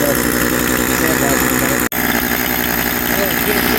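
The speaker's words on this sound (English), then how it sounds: "it's idling and it's running" A Husqvarna 141 chainsaw, recently freed from a seized engine, idles a little fast with a steady buzzing drone that is loud and continuous, broken by one very brief dropout midway.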